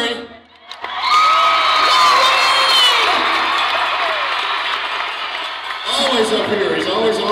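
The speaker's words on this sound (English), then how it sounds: "clap for Larry" A large crowd at a concert in Perth erupts into loud cheering, whooping and clapping, sustained and dense, with shouts rising again near the end.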